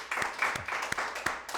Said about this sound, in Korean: 우리 잘할 수 있도록 박수로 격려하겠습니다